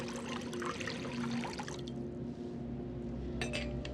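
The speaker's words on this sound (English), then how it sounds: "Pour the water in the pot." Water is poured into a pot for making tea, a close splashing trickle that thins out and fades into a quieter ringing tone.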